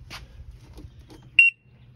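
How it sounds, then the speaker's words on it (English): A single short electronic beep from an ADA Sportsman Evoke electronic paintball marker as it enters service mode, sharp and clear against quiet room noise with faint handling sounds before it. "even though I hear the beep, you look here"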